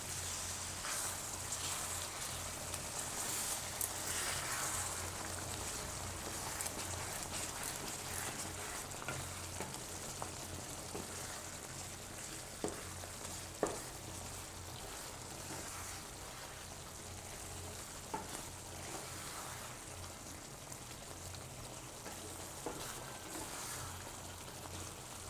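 Bottle gourd and gram flour curry stirred in a pan, a steady sizzle and frying hiss running throughout with occasional soft scrapes of the spoon against the pan.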